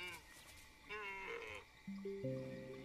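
Donkey-like creatures in the Spore video game bray with a series of harmonic, bleating calls, first wavering then held as longer tones, loud and close with no talk over them.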